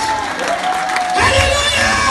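A crowd at a Christian crusade gathering cheers and shouts in acclamation of the Lord. A broad, loud roar swells noticeably after about a second and stays strong.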